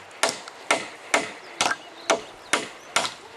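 Hammer blows struck one after another at a steady pace, eight sharp close knocks with short ringing decay between them and no other sound.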